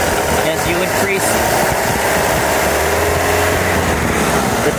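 A 1979 Mercruiser 3.0L 140 hp marine engine fitted with an electronic ignition kit runs steadily as the throttle is advanced, a loud, dense, continuous drone heard close by with no pauses.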